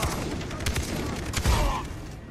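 Gunfire in the video game Far Cry 3 crackles in rapid bursts, fairly faint and distant, with several sharper shots clustered around the middle.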